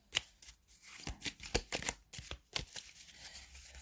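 Flower oracle cards being shuffled by hand, a quick run of soft riffling flicks and papery slaps, close and fairly quiet, with no talking.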